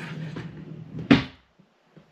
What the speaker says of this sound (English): And I have just opened this drawer.